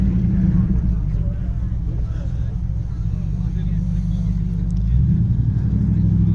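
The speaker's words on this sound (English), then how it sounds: "TR7 there, pulling out, or pulling in." A Triumph TR7 classic car pulls in or out at an autojumble classic car show, its steady low engine rumble loud and close, shifting in tone near the end with outdoor crowd murmur behind.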